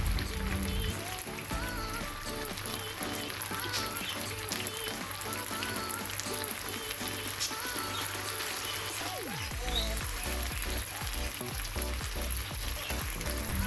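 Chicken pieces fry in a pan, a dense, continuous close sizzle and crackle that holds steady throughout, with a few soft stirring or shifting sounds and no talk.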